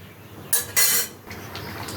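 A utensil mashes mango dal in a cooking pot, giving two short metallic scrapes and clanks close up over a low background hum, with no talk.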